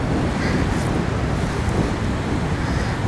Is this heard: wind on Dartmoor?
yes